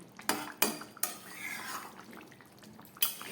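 A cooking pot of katla fish curry with potato and cauliflower is lifted off a gas stove, giving several sharp metallic clanks and scrapes with soft rattling in between, close and fairly quiet.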